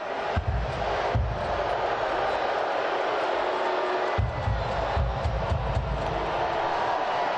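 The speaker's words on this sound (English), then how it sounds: "The crowd in the corner there is getting pretty heated, it sounds like." A stadium crowd at a USL soccer match between FC Cincinnati and Rochester Rhinos rumbles with a continuous roar, with a deep low rumble that surges in and drops out, heard from a distance.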